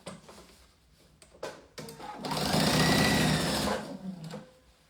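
Sewing machine stitching backpack pieces together at a 0.5 cm seam, a few short needle taps and handling clicks, then a steady close whir of continuous stitching for about two seconds before slowing and stopping.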